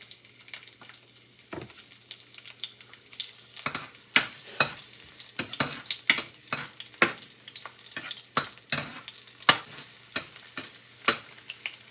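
Chicken feet with garlic sauté in a pan, a soft continuous sizzle broken by sharp scraping stirs at irregular intervals, close and alone.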